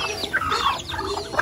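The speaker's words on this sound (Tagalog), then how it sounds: "So meron sila dito mga manok. Sobrang daming manok." A flock of many village chickens clucks and squawks close by on a rural morning in Sorsogon, overlapping bursts of busy, excited calls with no talking.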